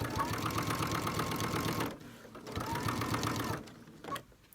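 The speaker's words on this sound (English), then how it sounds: "So start your stitching, reverse, backstitch, and you want to keep on sewing." Sewing machine stitching a triangle zipper pouch with a backstitch, a close, steady motor rattle that stops briefly, restarts for another run and then winds down, with a voice faintly underneath.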